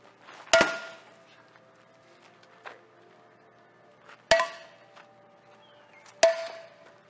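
A bat strikes a TV set in three loud, sharp cracking blows with a ringing edge, spaced a few seconds apart, plus a couple of fainter knocks in the quiet gaps.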